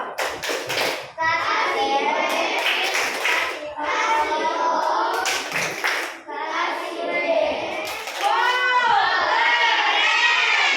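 A room of fifth-grade children in an Indonesian classroom clapping in bursts and chanting together, with bright young voices and shouts between rounds of applause.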